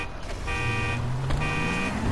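Car alarm in the video game GTA V Online, a repeating electronic tone sounding in two pulses with a rising whine beneath, moderately loud with faint background sounds.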